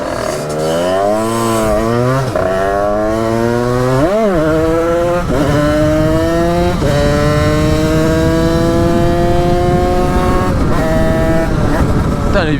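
A Derbi/Sherco motorcycle in winter revs loudly and repeatedly for wheelies, its engine whining up through gears in rising sweeps with brief drops between, very close and continuous.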